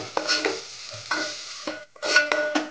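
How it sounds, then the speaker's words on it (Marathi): A spoon scrapes and turns mutton with red chili powder in a hot pan for a home-style Gavran mutton curry, with a steady sizzle and a few brief pauses, close and fairly loud with no talking. "मिक्स करू व्यवस्थित"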